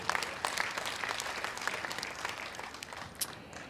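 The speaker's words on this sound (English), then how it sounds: "give yourself a round of applause" An audience at a 2011 Greensboro Tea Party rally breaks into steady applause, many hands clapping in a dense, continuous patter heard from a slight distance at moderate volume throughout.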